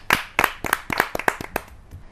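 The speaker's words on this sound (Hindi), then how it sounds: "आपकी जोरदार तालियां मिले बड़े कवि को" An audience at a Hindi poetry gathering claps for a poet, a short run of about eight distinct, fairly loud claps at a quick, slightly uneven rhythm that thins out toward the end.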